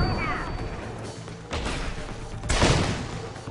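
Gunfire in the video game Deus Ex: Human Revolution, a few sharp heavy shots and impacts at irregular intervals, fairly faint in the mix with a voice briefly heard.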